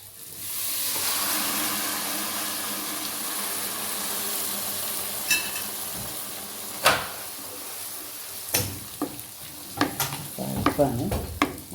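Cooked taro with turmeric is poured into sizzling tempering in a pan: a loud, steady frying hiss fills the first seconds, then gives way to sharp clatters and stirring scrapes.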